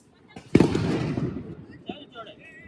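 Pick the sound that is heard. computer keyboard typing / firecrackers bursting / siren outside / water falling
firecrackers bursting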